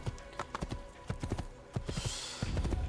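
Horse hooves clip-clop in Assassin's Creed II at an uneven trotting pace, close and moderately loud, with a brief higher rustle near the end.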